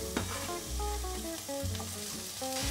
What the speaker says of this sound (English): on a separate pan, I'm going to be adding a little olive oil and add my cherry tomatoes.